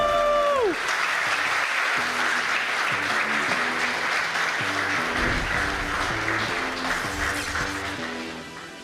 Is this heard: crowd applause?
yes